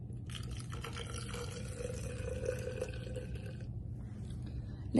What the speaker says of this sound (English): pouring a cup full of milk.